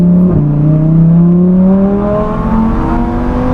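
A sports car accelerates hard, its engine note climbing steadily through the gears with a brief dip at a shift, loud and close with no talk.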